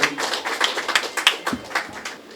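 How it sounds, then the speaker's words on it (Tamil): An audience at an astrology gathering claps in a steady, fairly close patter of many hands, with individual sharp slaps standing out over the crowd's applause. "கைத்தட்டல் செஞ்சு உற்சாகப்படுத்துங்க"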